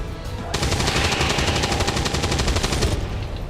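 A loud, dense burst of rapid automatic gunfire in XCOM 2: War of the Chosen, hammering steadily for a little over two seconds before cutting off.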